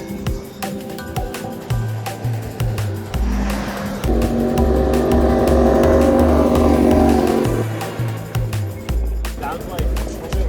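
Cars pass on a city street near the ferry building, with one engine swelling loud and close in the middle before fading, amid background traffic and a person talking.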